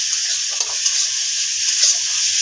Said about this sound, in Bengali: পেঁয়াজটাকে একটু হালকা ভাজা ভাজা করে নেবো